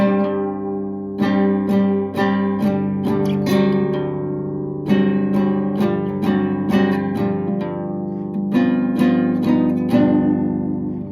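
Steady acoustic guitar strumming with ringing chords played in a regular rhythm, close and clear, with no voices.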